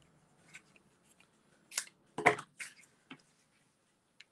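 Scissors snip through paper for a small craft shadow box frame, a few close, crisp cuts clustered in the middle amid near silence, with faint handling rustles before and after.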